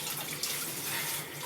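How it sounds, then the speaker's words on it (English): Tap water runs steadily into a kitchen sink while an onion is peeled, a continuous close hiss with no talking. "for onion you need running water"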